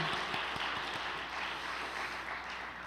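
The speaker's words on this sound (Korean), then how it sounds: "전유산 국장님께 다시 한번 큰 박수 부탁드립니다" An audience in a hall gives faint, steady applause for a lecturer, with a few distinct claps standing out at the start before the clapping blurs into a soft continuous patter.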